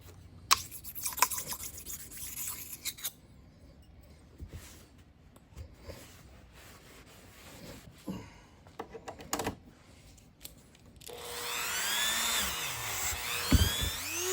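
A sharpening stone is worked over rust pitting on the tool post of a 14-1/2" South Bend lathe, producing close, intermittent scraping and rubbing strokes. A louder, steadier grinding burst follows near the end.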